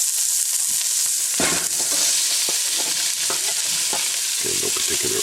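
Vegetables dropped into a hot pan with cooked meat for ramen, sizzling loudly and continuously while being stirred, with scraping and tossing noises throughout, close by.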